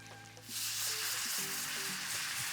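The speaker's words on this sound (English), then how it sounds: "Once you got that flour and butter mixed, now we'll start to add in our milk" Milk poured into a butter-flour roux sets off a sudden loud, broad sizzle that holds steady and close after a quieter start, with a few tonal scrapes underneath and no talking.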